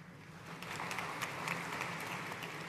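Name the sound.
applause for graduate at commencement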